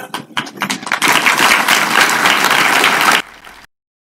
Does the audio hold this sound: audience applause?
yes